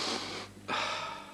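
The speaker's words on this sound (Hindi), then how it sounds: "खांसे, सांस लें लंबा" A patient draws a long, deep breath, a loud airy inhale that dips into a brief pause, then another strong rush of breath, close and with no talk.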